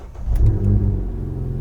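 A Ford Fiesta ST with the rear backbox deleted and a stage 1 map running about 220 horsepower fires up with a loud, close, brief rev that settles into a rumbling idle.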